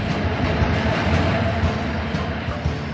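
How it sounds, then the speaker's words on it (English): A subway train roars past close by, a loud continuous rumble with rattling wheel clatter, filling the whole stretch. "A subway train roars by."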